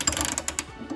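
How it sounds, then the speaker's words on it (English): A ratchet spanner clicks rapidly on a tap fitting during a dripping-tap repair, a close burst of sharp metallic ratcheting ticks in quick uneven rhythm, loud and alone. "Fortunately, I've got a ratchet spanner"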